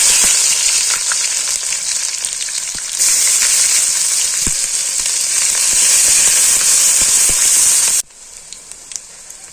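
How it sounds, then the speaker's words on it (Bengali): Sliced onions fry in hot oil with cumin seeds, a bay leaf and a little sugar, giving a loud, constant crackling sizzle with small pops that falls abruptly quieter near the end. "পেঁয়াজ ভাজা হয়ে গিয়েছে"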